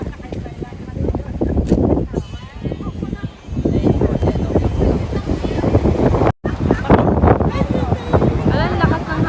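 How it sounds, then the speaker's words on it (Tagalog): Strong wind blasts across the microphone on a beach, a loud, gusty roar with some surf underneath. People talk through it, and there is a short dropout partway through. "lakas ng hangin."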